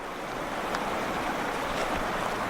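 Pebble Creek in Yellowstone, a rocky stream, rushes steadily over stones with a constant broadband wash and faint breeze, unbroken and fairly close, no voices.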